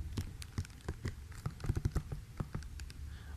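Quick clicky keystrokes on a computer keyboard, typed in an irregular patter of short taps with brief pauses, close and fairly quiet while a name is entered into an online registration form.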